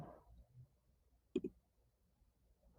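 A single computer mouse click, a quick double tick, during a quiz game, fairly close but faint against a quiet background.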